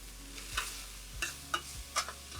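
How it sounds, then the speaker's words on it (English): Beef sizzles in a frying pan as it is stirred with several quick scraping strokes over a quiet, steady fry for Philly cheesesteak egg rolls. "Give that a quick stir."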